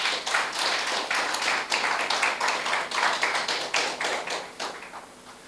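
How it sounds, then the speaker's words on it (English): A room full of people clapping for sponsors at a Jamaican short film competition ceremony, steady close hand claps that swell and then thin out toward the end. "So let's give a round of applause for the sponsors."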